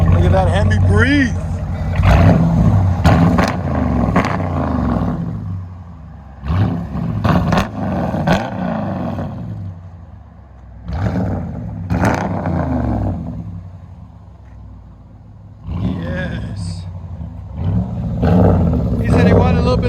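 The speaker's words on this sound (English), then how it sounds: "Look at that HEMI breathe." A HEMI V8 engine revs hard in repeated bursts, loud and close, each surge rising and then dropping back to idle in between, with talk over parts of it.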